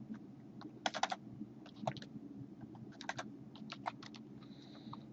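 Typing on a computer keyboard while entering a split formula in OpenRefine, with bursts of close key clicks in quick uneven runs over a low steady background hum.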